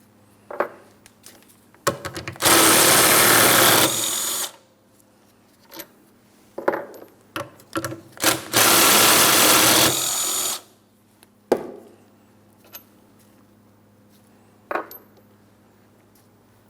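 A power wrench spins out the 13mm bolts on a Pontiac Grand Prix steering knuckle, giving two long loud whirring bursts separated by metallic clinks and clatter from loose bolts and tools.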